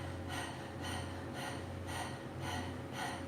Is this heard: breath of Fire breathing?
yes